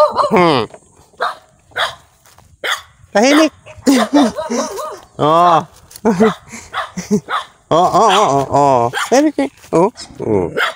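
A dog barks and yips repeatedly at close range, mixed with whimpering sounds, while a person talks in between.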